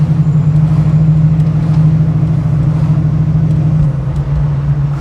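A deep, throaty 1974 AMC Javelin AMX muscle car with a 401 engine idles close by, a low steady rumble with a slight dip in pitch near the end.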